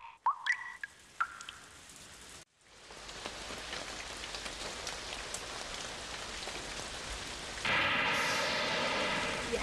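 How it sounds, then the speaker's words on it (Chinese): Steady rain pours down in a cartoon outdoor wilderness scene, a dense continuous hiss that starts abruptly after a brief bit of other sound and grows heavier and louder near the end. "原来是下雨了呀，快找地方躲吧。"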